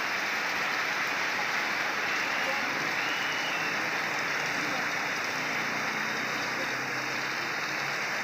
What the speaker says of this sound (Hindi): काफ़ी बारिश है,